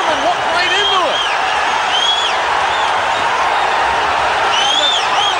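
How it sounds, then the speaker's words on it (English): Boxing crowd at a George Foreman fight roars in a continuous, loud wash of cheering and shouting, with a commentator talking over it. "And the crowd going wild"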